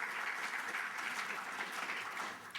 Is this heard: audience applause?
yes